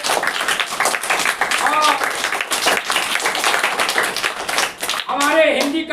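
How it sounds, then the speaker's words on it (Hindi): Audience clapping for a school children's stage performance of the Hindi play Andher Nagari Chaupat Raja, dense steady applause filling the hall throughout, with voices speaking over it near the end. "एक बार हम चाहेंगे कि हमारे तमाम बच्चों के लिए जोरदार ताली आपको बताइए"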